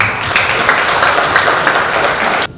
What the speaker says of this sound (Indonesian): tolong tepuk tangannya